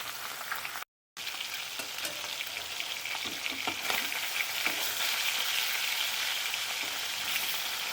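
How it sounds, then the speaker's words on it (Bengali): Fish frying in a pan for coriander fish curry, a steady close hiss and sizzle of hot oil with faint stirring ticks, broken by a brief silent gap near the start. "এটা ভালো করে লাল লাল করে ভেজে নেব"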